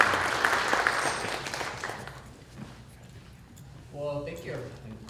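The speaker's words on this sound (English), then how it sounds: "Please give Mike and Scott a round of applause." An audience applauds two school principals at a K-12 prospective family night. The clapping fades within a few seconds, and a voice begins near the end.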